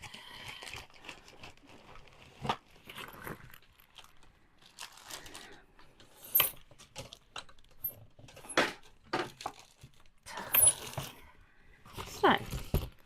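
Colored pencils rattle and clatter as someone rummages through a pencil case, a string of close, uneven clicks and scrapes with short louder bursts between quieter stretches.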